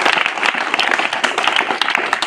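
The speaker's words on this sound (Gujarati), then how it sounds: "આ દીકરાને તાળી દીધા" A classroom of schoolchildren bursts into dense, continuous clapping for a boy, close and loud, sustained through the whole moment with no pause.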